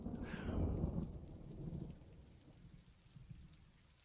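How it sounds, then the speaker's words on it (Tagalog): Rain falls in a soft, steady hiss with a low, rumbling wash that swells briefly and then fades, quiet and with no voices. "Di mo napansing umuulan."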